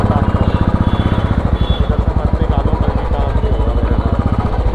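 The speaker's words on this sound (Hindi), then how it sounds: "इस एग्जॉस्ट के सामने तो होंडा हाइनेस का कुछ भी नहीं है।" A Royal Enfield Classic motorcycle exhaust running with a loud, close, steady thumping beat that barely changes for the whole stretch.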